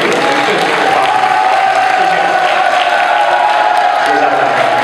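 Steady, dense audience applause fills a school's 50th-anniversary ceremony as the chief secretary is welcomed, with a faint sustained tone running underneath throughout.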